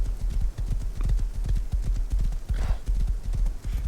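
Horse hooves clip-clop in a steady, close rhythm in the survival game Rust, with a brief snort or whinny partway through and no talking.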